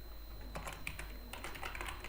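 Close, quiet clicks of fingers typing code on a computer keyboard, a short irregular run of soft keystrokes over a faint steady background hum.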